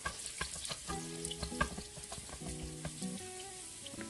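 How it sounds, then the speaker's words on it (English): Garlic sautéing in a pan for a spicy Bisaya chicken dish, a soft steady sizzle with scattered clinks and scrapes of a utensil and a faint background tone. "So let us start by sauteing the garlic"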